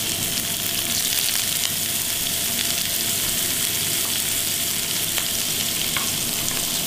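Onions, carrots and celery fry in a pan in a restaurant kitchen while an ossobuco is prepared, giving a loud, steady, close sizzle that runs unbroken with no talking.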